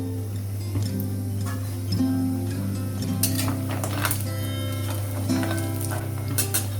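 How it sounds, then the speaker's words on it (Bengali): Lentil dumplings (bori) fry in hot mustard oil in a kadai, giving a steady close sizzle with a few scattered clinks and stirring scrapes and a low background hum, with no talking. "আমি এই বড়িগুলোকে ভেজে নিচ্ছি।"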